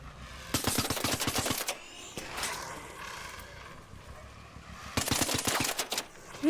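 Gunfire in the video game Pathologic: two loud bursts of rapid automatic shots, one early and one near the end, separated by a quieter stretch of muffled rumbling.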